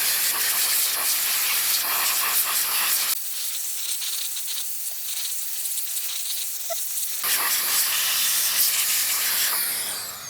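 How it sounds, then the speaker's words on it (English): A Makita brushless cordless blower is used to clean a dirty RLAARLO XTS-F10 V3 RC rally car. A loud, close, steady airy hiss runs throughout, with a softer, duller middle stretch, and no one speaks. "this brushless blower type of thing from Makita is really good."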